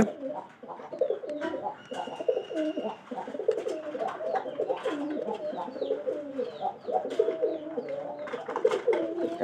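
Several pigeons coo continuously in soft overlapping rolling calls, close by, with a few faint chirps mixed in.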